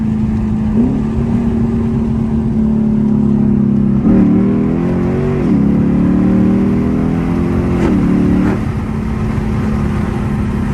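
Lexus IS F engine pulling hard down a straight, loud and close from inside the cabin, its drone rising steadily with several quick upshifts where the pitch drops and climbs again.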